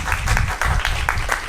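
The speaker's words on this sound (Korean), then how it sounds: "다시 한번 큰 박수 부탁드립니다." Audience applause at an urban farming talk concert during an expo, a short burst of close, fairly loud clapping with a pulsing rhythm of individual claps.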